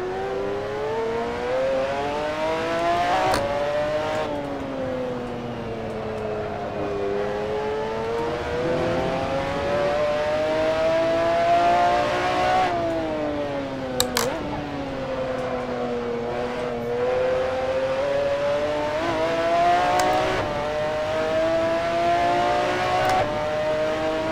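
A McLaren F1 GTR race car in the Assetto Corsa sim racing game at Brands Hatch, its engine howling steadily and sweeping up and down in pitch through repeated gear changes, loud and continuous with a brief click here and there.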